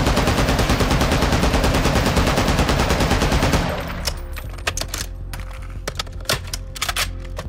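Taq-V 7.62 rifle in Modern Warfare II firing a long full-auto burst, a rapid dense stream of loud shots for about four seconds, then scattered sharp clicks and mechanical handling noises.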